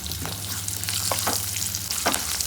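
Spices and asafoetida frying in a pan of hot oil for South Indian amla rice, a steady close sizzle with occasional stirring scrapes, no voices.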